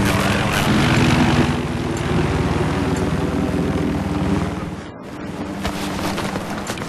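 An enemy helicopter in the Battlefield 3 video game roars loud and close with a steady rotor chop. The noise drops out briefly near the end and then returns.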